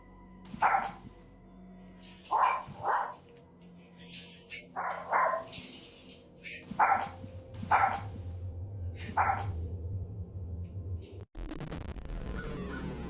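A dog barks repeatedly indoors in the middle of a room, about half a dozen sharp, moderately distant woofs spaced a second or two apart, with faint background noise.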